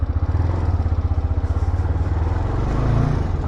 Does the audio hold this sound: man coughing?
no